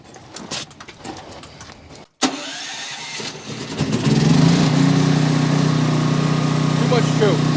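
A Pulsar G12KBN 12000 watt generator engine cranks on too much choke with a few rough attempts, then catches and settles into a loud, steady, sputtering run nearby.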